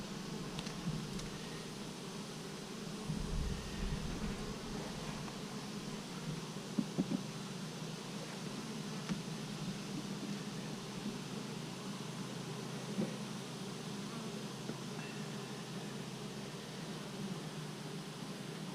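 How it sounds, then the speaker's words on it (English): Honey bees, a mixed colony of yellow and black bees, buzzing inside an opened nuc box during an August check, a steady low hum with faint rustling from handling the frames. "There's some black bees in here. I got yellow bees, I got black bees"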